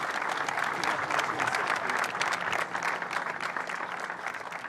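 Crowd in Victory Lane at the New Zealand Grand Prix applauds and cheers a third-place driver, with steady, dense clapping and some voices sustained throughout at a fairly close distance.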